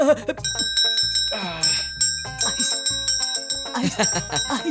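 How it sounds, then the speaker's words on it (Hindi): A bell rings with bright, bicycle-like chimes over busy musical background and voices, repeating several times. "बजा घंटी।"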